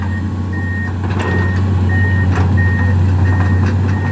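Steady low engine rumble from a Komatsu PC210 excavator digging, with a regular series of high electronic reversing beeps sounding over it throughout.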